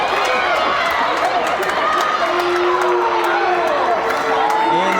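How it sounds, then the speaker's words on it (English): Crowd at a Jefferson College women's basketball game against Mineral Area, a dense steady roar of many voices with shouting and some applause, filling the gym while a commentator talks over it. "And the crowd is not happy with the referee's call."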